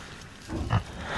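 A nursing sow with her piglets on a farm lets out a single low, close grunt midway through a short stretch of soft snuffling and rustling, with no voices.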